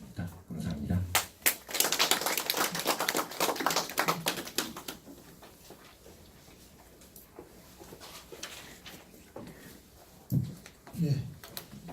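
Audience applause follows the end of a lecture at a Korean studies lecture series, a dense burst of clapping swelling loud for several seconds and then tapering, with a few scattered claps near the end.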